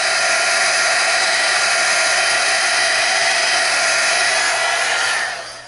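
A steady, loud whooshing embossing heat tool runs continuously at close range, then cuts off abruptly near the end.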